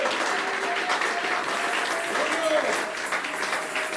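A church congregation applauding during a worship service, steady dense clapping throughout with voices mixed into the crowd noise.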